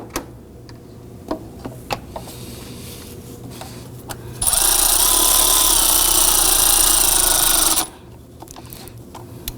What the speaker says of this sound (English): I'm going to go ahead and snug those down.